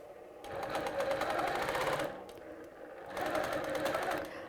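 A sewing machine stitches a paisley quilting design in two steady runs of rapid needle chatter separated by a brief pause, close but soft.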